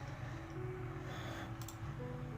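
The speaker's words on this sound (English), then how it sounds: "I'm gonna go ahead and turn the little fan the other side" A small electric fan runs close by at a low, steady whir with a faint hum, constant and unbroken throughout.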